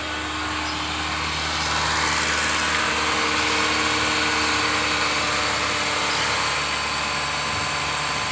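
A 2010 Honda Freed engine held steady at 2000 RPM, a continuous even hum with a slight whine, close and unchanging throughout.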